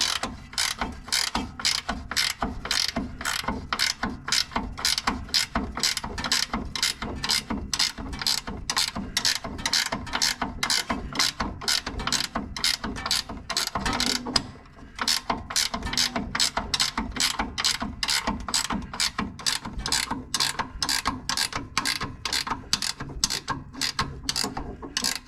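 A ratchet wrench tightens bolts on a Toro Timecutter riding mower, a long run of rapid, evenly spaced clicks close to the microphone with one short pause partway through.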